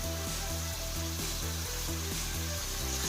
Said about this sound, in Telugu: వీటిని మనం ఒక 2 నిమిషాలు 3 నిమిషాలు వేపుకోవాలి.